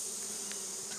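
Honey bees buzz around an open hive in a dense, steady drone, many insects humming together close by with no gaps.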